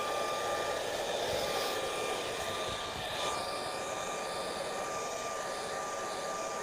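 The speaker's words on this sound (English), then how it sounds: "I think the heat gun is a little safer than a normal hairdryer." A heat gun drying acrylic paint gives a steady, faint airy whir with a constant motor whine, unbroken and alone for the whole stretch.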